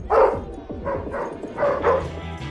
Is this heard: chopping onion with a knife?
no